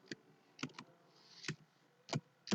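Scattered keystrokes on a computer keyboard, about six or seven sharp clicks at an uneven pace, faint and close in an otherwise quiet room.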